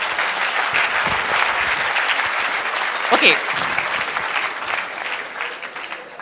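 Audience applause breaks out after a panel speaker finishes at a panel discussion, dense steady clapping filling the room throughout, with a brief spoken word from a person near the middle.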